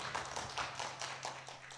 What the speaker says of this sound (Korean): 박수로 환영해 주세요.